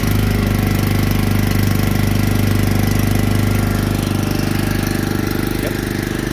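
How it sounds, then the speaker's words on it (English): A trailer-mounted water pump engine on a 275 gallon trailer runs steadily while self-drafting water, a loud, continuous mechanical drone with a rough, knocking pulse, close and unbroken throughout. "sometimes you got to have a little bit of extra RPM with it, and it'll take a second, but it will start to pump"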